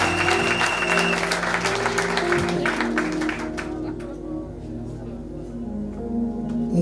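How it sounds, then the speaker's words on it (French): An audience at a Christian church convention applauds loudly with dense, sustained clapping that thins out after a few seconds. Faint voices and a low musical hum run underneath. "Est-ce qu'on peut acclamer pour lui?"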